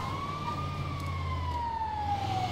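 An ambulance siren in the video game GTA 5 holds one long, slow tone that rises and then falls, moderately loud over a low engine rumble, with no talking.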